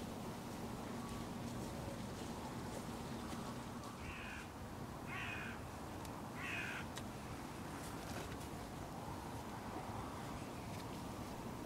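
Hooded crows cawing near a hunting hide in open countryside, three harsh calls spaced about a second apart over steady wind and low rumble, fairly distant.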